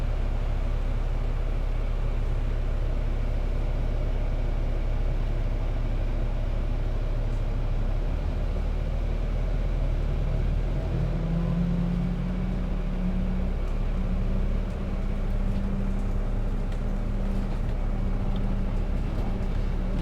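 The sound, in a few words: noisy bus engine from the back seat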